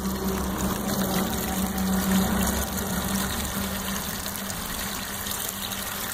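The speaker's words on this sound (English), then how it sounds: "Okay, the pump's just kicked on." Swimming pool pump running and pushing water through a solar heater setup, a steady low hum with a continuous gushing flow, moderately loud and unbroken.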